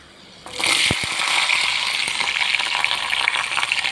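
Onions hit hot oil after fenugreek seeds have spluttered, with a sudden loud sizzle that keeps crackling steadily, with a few clinks of a utensil near the start.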